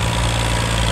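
A Massey Ferguson 240 tractor engine runs at a loud, steady idle close by, with a low throbbing drone and a faint knock, and no voices.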